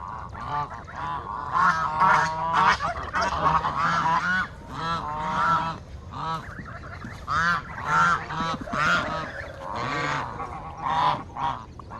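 A flock of geese honking loudly and continuously nearby, dense overlapping calls over several seconds, with Brahma chickens and a windstorm also part of the setting.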